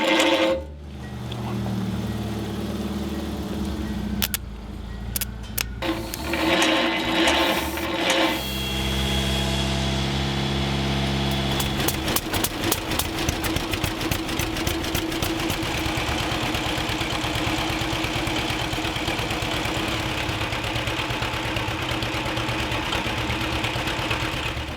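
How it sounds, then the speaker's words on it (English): An old Massey Ferguson tractor engine cranks on the starter in a few short bursts, catches, then settles into a steady, rattling idle that continues close by without talk. "I'm gonna try to start this thing really quick, and you guys can hear this old tractor run too."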